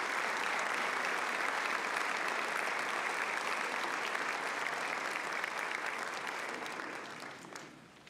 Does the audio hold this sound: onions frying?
no